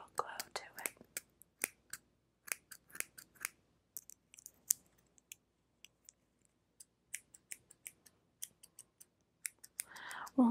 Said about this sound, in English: I am using a smaller pair of scissors just because we're not taking that much off